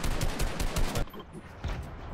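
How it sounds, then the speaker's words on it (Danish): Rapid bursts of automatic gunfire in the Fortnite video game, loud and close, firing in quick repeated shots for about a second before dropping to quieter sporadic shots. "Jeg skyder den."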